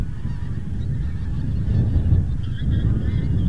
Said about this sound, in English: these geese have come all the way from Greenland and Svalbard